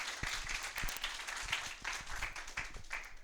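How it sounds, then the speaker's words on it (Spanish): Audience at an engineering conference talk claps to welcome a presenter, a dense, steady patter of many hands at moderate distance with no voices over it. "Vamos a recibirlo con un aplauso"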